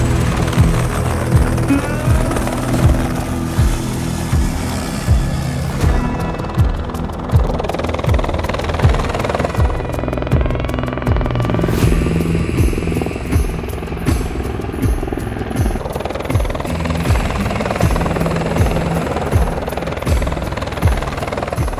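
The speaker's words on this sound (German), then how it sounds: "Der Helikopter nimmt die Last, geht nachher am Abladeplatz" An Air Zermatt helicopter lifting loads near a Swiss village thumps steadily and loudly throughout, a constant rhythmic rotor chop with engine whine, close by and without pause.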